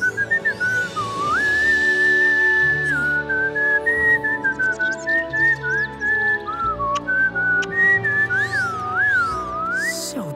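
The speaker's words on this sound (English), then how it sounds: "Perhaps I can teach you the whistle" A cartoon character from Teen Titans Go! whistles a long, wavering melody close by, sustained tones gliding up and down with a few quick trills, alone over faint background music.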